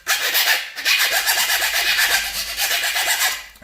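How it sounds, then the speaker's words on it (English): Hand file rasping along the jagged edge of a cut made with tin snips, a close, steady run of back-and-forth strokes with a short pause near the start, heard alone. "You can either give it a file."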